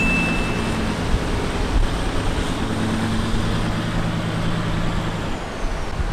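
A vehicle engine at light throttle taking off on soft sand, a steady low rumbling drone holding even and close for several seconds with no talk.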